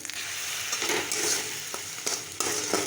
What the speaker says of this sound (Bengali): তো আমি আদাটা খুব বেশি ভাজবো না, ভাজলে টেস্টটা নষ্ট হয়ে যাবে।